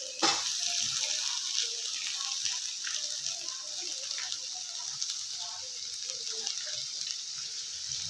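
Potatoes, tomato and green chilies fry in a hot pan for upma, giving a steady close hiss and crackle that runs unbroken throughout with no talk.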